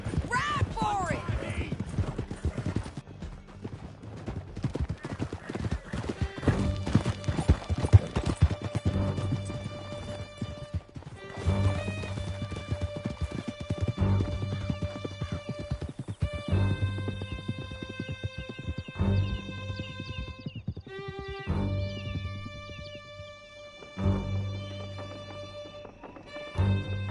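Horses galloping while ridden in Red Dead Redemption 2, rapid rhythmic hoofbeats with neighs, close and loud, under music and voices talking.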